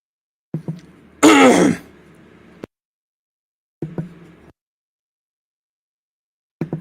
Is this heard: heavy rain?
no